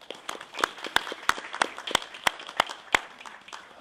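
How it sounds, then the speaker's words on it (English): An audience applauds to welcome the panelists at a forum on mental illness and criminal justice, a scattered, moderately loud patter of claps with several sharp, close individual claps, tapering off near the end. "let's give a round of applause and welcome to all of our panelists"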